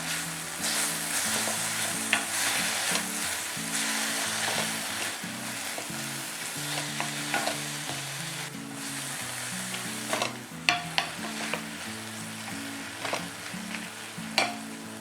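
Tamarind, green chilies and dried red chilies sautéing in a pan, a continuous close sizzle broken by repeated scraping stirs and a few sharp clacks toward the end, with a low hum underneath.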